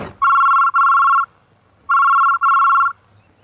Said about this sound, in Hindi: जानकी, जानकी, तुम्हारे भैया का फोन आया है।